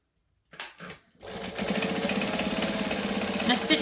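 A sewing machine stitches fabric pieces of a coffin-shaped wallet a short seam allowance from the edge, a few brief thumps first, then a fast steady mechanical whir of stitching close by without talk.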